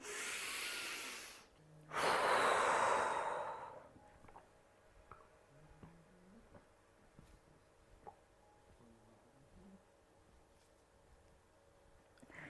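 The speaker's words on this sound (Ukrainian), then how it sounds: "Принцип такий самий: вдих, видих на затримці дихання живіт до себе від себе" Two strong, close breaths, a rushing exhale and then a deeper inhale, are taken during the agnisara kriya yoga exercise, followed by near silence with faint ticks and small movements.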